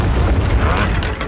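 A fire spell cast in Hogwarts Legacy, a loud, dense burst of fiery rumble and crackle lasting about a second, close and full, with no talk over it.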